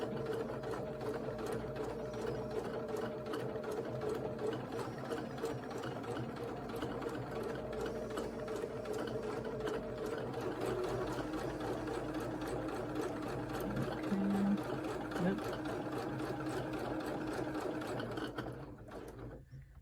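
A sewing machine runs steadily for about twenty seconds, stitching a Friendship Star sampler quilt block along a line with its close, even mechanical whir, stopping just at the end.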